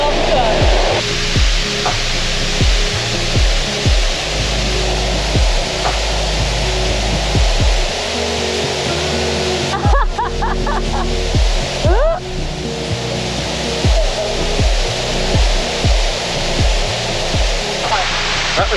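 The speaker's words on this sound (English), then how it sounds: "That big waterfall. It's insane." A big waterfall in the Atherton Tablelands rainforest of Australia, swollen after rain, pours out a loud, constant roar of rushing water that fills the scene close by, with a few brief knocks and voices over it.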